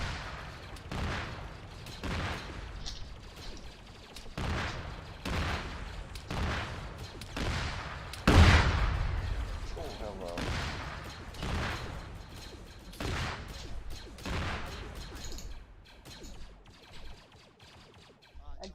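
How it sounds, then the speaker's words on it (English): A mortar fires repeatedly in a military video game, heavy thumps landing every second or so in a steady rhythm, with one louder, closer boom partway through and voices heard faintly between the shots. "Is that a mortar firing? Yes, that is."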